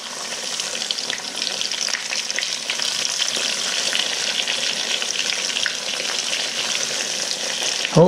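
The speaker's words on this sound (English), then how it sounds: "Fry the second batch." Small bream and crappie fish frying in a batch, a steady dense sizzle of hot oil holding close and even throughout with a brief louder crackle at the very end.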